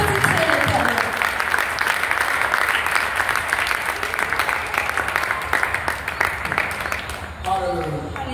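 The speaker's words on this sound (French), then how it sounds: "Now, give God a praise offering. Alors, applaudissez l'Éternel." A church congregation applauds together in sustained, dense clapping that fills the space, with voices mixed into the crowd noise before it thins out near the end.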